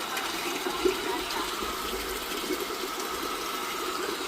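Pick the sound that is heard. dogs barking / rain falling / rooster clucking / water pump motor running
water pump motor running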